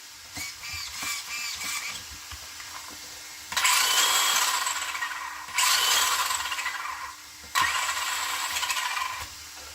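Electric motor of a JrX2 RC car, roughly stock-level, is run forward and reverse. It gives three loud, high-pitched whining bursts of about two seconds each, close by, after quieter clicks and handling noises.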